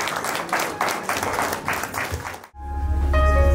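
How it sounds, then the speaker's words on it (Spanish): Wedding guests clap in a room, a rhythmic, pulsing round of applause at moderate distance that cuts off abruptly midway and gives way to a low hum and tonal music. "Fuertes aplausos, hombre."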